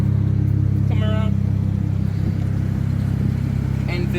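A lowered BMW 335i convertible with the N54 engine idles nearby in a deep, steady rumble, with brief voices over it.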